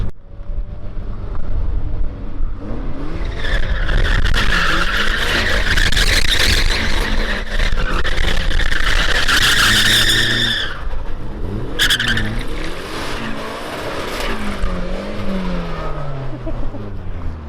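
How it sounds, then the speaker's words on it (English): A turbocharged Mazda MX-5 doing a burnout on a burnout pad at a car festival, the engine roaring at high revs while the tires shriek in long, loud squeals, briefly easing and then screaming again. "first ever burnout on a burnout pad"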